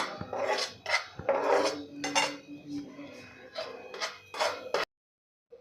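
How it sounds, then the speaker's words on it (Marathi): Spoon or spatula scraping and clinking against a pan while gram flour and semolina are stirred and roasted, in irregular nearby strokes that stop abruptly near the end. "आता दोन तीन मिनटे आपण पुन्हा आता हे भाजून घेणार आहे"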